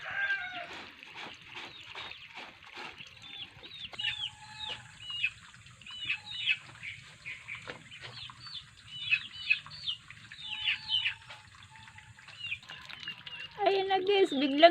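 A tame bird flies in close with a quick run of wingbeats, then chirps repeatedly nearby, its calls over quiet household background.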